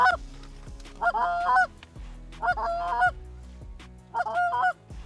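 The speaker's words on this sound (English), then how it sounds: "Oh, out front, geese out front." Canada geese honk loudly and close by over an oat field during a hunt, in three repeated bursts of harsh, nasal calls with short pauses between them.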